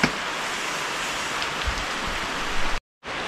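Heavy rain pours on the Cikole downhill track, a dense and steady hiss of falling water up close that drops out abruptly for a moment near the end.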